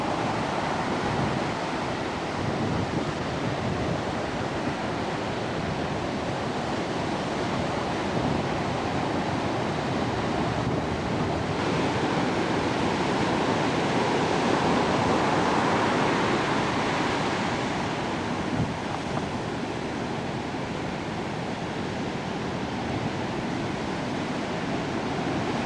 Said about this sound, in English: one right after another. Huge, huge waves.